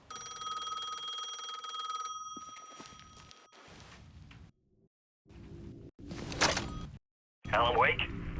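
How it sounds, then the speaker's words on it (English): A payphone rings in Alan Wake II, bursts of electronic ringing broken by silences, shuffling footsteps and other game sounds, with a voice speaking in places. "The payphone was ringing again."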